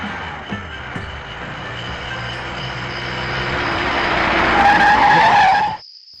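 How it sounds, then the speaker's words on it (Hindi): A car brakes hard to a stop on a road, with a long rising tire skid and brake squeal that builds over several seconds, then cuts off abruptly. "गाड़ी क्यों रोक दी?"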